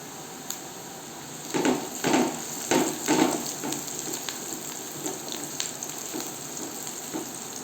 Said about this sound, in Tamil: இந்த வெங்காயம் வதங்கி ப்ரௌன் கலர் வர்ற வரைக்கும் நீங்கள் நல்லா வதக்கி விட்டுக்கலாம்